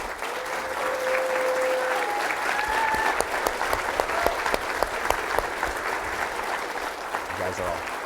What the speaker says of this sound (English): I want everybody to stand up and give a round of applause to our